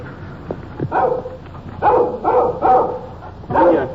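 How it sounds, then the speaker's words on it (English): A small dog keeps barking nearby in short bursts of one to three yaps, loud and sharp with brief pauses between them. "This little dog following us, keeping at a safe distance. He's making an awful lot of noise for a little fella."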